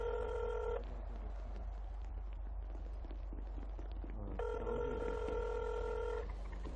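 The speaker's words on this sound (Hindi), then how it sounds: "उसको फोन लगा रहे हो?" Telephone keypad tones sound over a noisy room, with two long steady beeps a few seconds apart, the second lasting about two seconds, and no voices.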